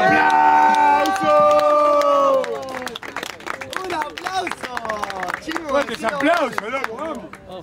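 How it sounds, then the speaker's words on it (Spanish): A crowd at a freestyle rap battle erupts after a verse, with loud sustained shouting voices giving way to a busy, chaotic mix of cheers, yells and scattered clapping. "¡Aplauso!"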